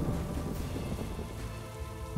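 Stormy night rain in a Bengali horror cartoon, a steady dense hiss of rainfall with low thunder rumble rolling underneath, continuous and fairly loud throughout with no voices.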